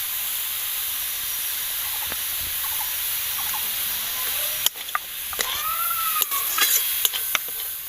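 A sweet potato, coconut and date-palm jaggery mixture is stirred in a pan over a steady, close sizzling hiss, with scattered scrapes and clicks from the spoon growing busier toward the end.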